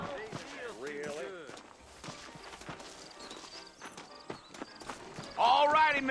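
Horse hooves clip-clop at a steady walking pace beneath overlapping speech and music, moderately loud throughout, in the video game Red Dead Redemption.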